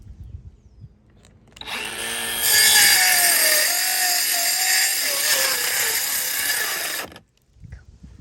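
A Greenworks 40-volt battery-powered 8-inch pole saw cuts through shed roof rafters during demolition: a loud, steady motor whine with the rough grind of the chain biting into wood, running for about five seconds before cutting off.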